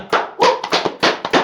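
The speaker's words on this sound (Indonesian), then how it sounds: "Boleh tepuk tangan?" A small group gives a brief burst of hand clapping, a few quick uneven claps spaced over a second and a half, close and fairly loud, with no talking.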